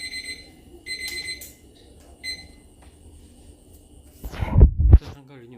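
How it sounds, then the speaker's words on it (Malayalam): A 15-minute timer alarm during a live binary options trading session beeps in a few short, bright bursts near the start, followed by louder, muffled knocking sounds at the end. "15 മിനിറ്റിൻ്റെ അലാറം അടിച്ചു."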